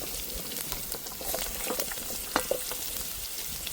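Grated radish frying in oil with mustard seeds, cumin and curry leaves, a close, steady sizzle with crackles and the scrape of stirring, no voices.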